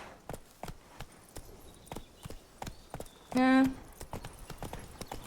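Roach the horse's hooves clip-clop steadily at a walking pace in The Witcher 3: Wild Hunt, Blood and Wine, with a short musical chime partway through and a brief spoken word over the hoofbeats.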